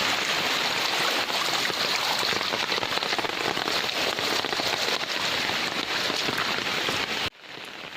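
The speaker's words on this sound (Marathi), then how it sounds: "आता अनुभवा पाकाडीच्या पाण्याचा मंजूळ आवाज" Steady rushing water of a canal swollen by heavy monsoon rain fills the scene, a continuous broadband wash, loud and close, cutting off abruptly near the end.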